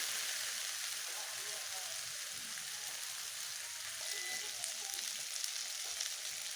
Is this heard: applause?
no